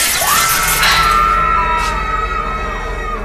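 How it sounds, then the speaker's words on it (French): People shouting and screaming at night among school lockers, loud, sustained voices with a rising wail partway through, no other talk. "C'est quoi ces cris-là?"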